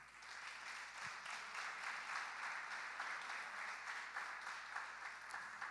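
Sustained clapping from a church congregation continues steadily throughout, dense and even, heard from some distance.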